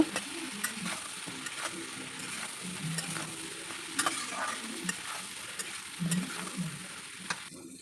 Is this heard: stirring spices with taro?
yes